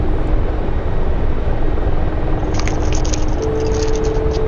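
A loud, steady drone of whirring rotor and engine noise from a Mi-24 Hind helicopter in the DCS flight simulator game, with faint metallic rattles near the end.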